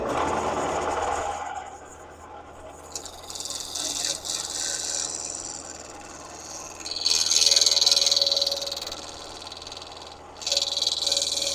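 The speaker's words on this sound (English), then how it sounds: "let's go with the skew on this guy, and I'll use the skew as a negative rake scraper just to clean that up a little bit" A skew chisel held flat as a negative rake scraper on a wood lathe, giving a steady hiss and scraping rasp over the spinning workpiece's hum, with louder bursts of cutting as the tool meets the wood.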